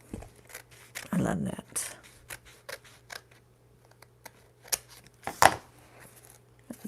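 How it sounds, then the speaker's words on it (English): Scissors snip and trim paper for a mixed media collage journal, a few crisp cuts in short bursts between quiet pauses, close to the microphone, with a brief spoken remark over them. "once you trim it out, it looks so great"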